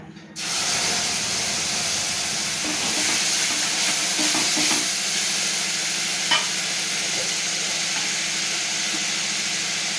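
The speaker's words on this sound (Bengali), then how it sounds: "তেলের মধ্যে দিয়ে দিচ্ছি সর্ষে কাঁচা লঙ্কা বাটা।" Mustard and green chili paste sizzles and hisses steadily in hot oil in a Bengali kitchen while fish curry is being made, with occasional stirring scrapes over a continuous close frying sound.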